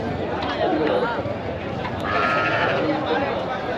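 Goats bleat at a busy rural livestock market, several sharp calls rising over constant crowd chatter and people talking nearby.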